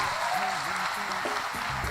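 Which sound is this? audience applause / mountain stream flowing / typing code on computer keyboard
audience applause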